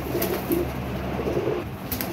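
Domestic pigeons kept as a breeding pair coo softly in a low, steady murmur, with a few brief rustles and knocks close by.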